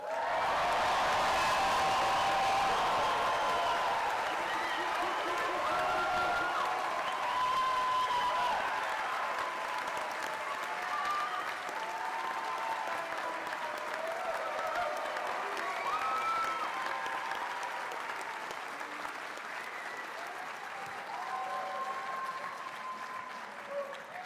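A graduation commencement crowd bursts into sustained applause and cheering, loudest at the start and gradually easing while steady clapping continues throughout.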